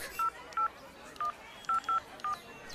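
Telephone keypad tones entering a number in an Egyptian radio drama: six short, evenly pitched electronic beeps in an uneven rhythm, loud and close over a low background hiss.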